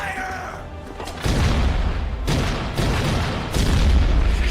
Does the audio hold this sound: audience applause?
no